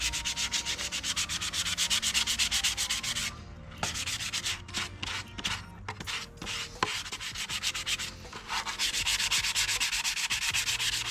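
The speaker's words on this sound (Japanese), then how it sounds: "じゃあ少し乾いたので削っていきます。" A part from a Honda NSR50 50cc motorcycle restoration is sanded by hand after drying, producing steady, close rasping strokes in a quick regular rhythm that pause briefly midway before resuming.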